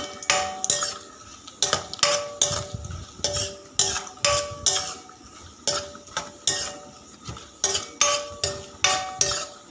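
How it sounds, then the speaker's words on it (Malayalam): Grated coconut frying in a pan while a spoon stirs it in rhythmic scrapes and clinks against the metal, with a soft sizzle underneath. The sound is close and steady, with no talking. "ചെറുതായിട്ട് ബ്രൗൺ നിറാകുന്നത് വരെ ഇളക്കി കൊടുക്കാവുന്നതാണ്."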